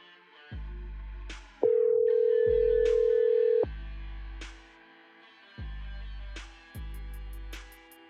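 Telephone tones after a dropped call: a steady, loud hum held for about two seconds, then a run of evenly spaced repeating beeps, with no voices.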